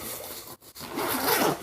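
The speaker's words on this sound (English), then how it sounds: "Alright, you open up the big zipper here." A large zipper on a fishing tackle bag is pulled open in two quick bursts with a short break between them, then a longer steady rasp that runs to the end. It sounds close and clear, and no one speaks.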